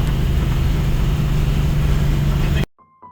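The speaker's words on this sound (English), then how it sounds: "Here I'm bouncing off the rev limiter bad" A 1965 Chevelle engine with a slipping third gear held at high revs, loud and steady as it bounces off the rev limiter, then cutting off abruptly into near silence.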